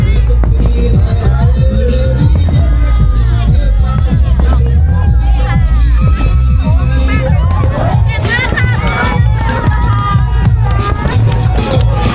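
Roadside crowd cheering and shouting along a 10 km course of the Buriram Marathon 2024 in Thailand, near Ban Khok Yai around kilometre 7, a loud continuous hubbub of voices, whoops and claps with bursts of babble throughout.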